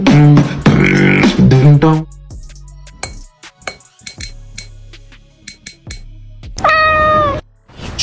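A cat giving loud, drawn-out yowling calls close by, one long call at the start and a shorter one near the end, with faint clinks and small knocks in between.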